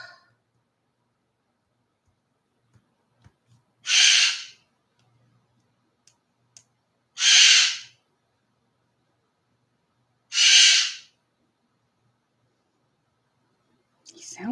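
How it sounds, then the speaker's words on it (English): A pet bird gives three harsh, crow-like calls spaced a few seconds apart, each loud and brief, with quiet and faint clicks between them. "He sounds like a crow, doesn't he?"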